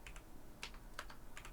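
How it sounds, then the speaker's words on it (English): Computer keyboard typing comes in a few quick, quiet clusters of keystrokes over a soft background hum, as commands are entered in a network configuration exercise. "I know I'm typing the wrong command."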